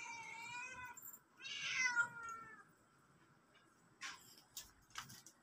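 Cats waiting for wet cat food give a couple of clear meows close by, followed by quiet gaps and a few soft clinks and taps of the food being served, with no talking.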